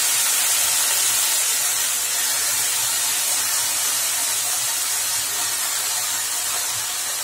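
Chopped broad beans (avarakkai) with curry leaves hitting a hot pan make a loud, steady, broadband sizzle that holds evenly throughout with no pauses.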